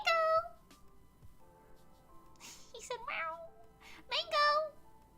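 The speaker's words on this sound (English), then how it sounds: "Mango meowing in the corner if you can hear him." A cat meows clearly several times, with drawn-out cries at the start and a louder burst of meows near the end, close by.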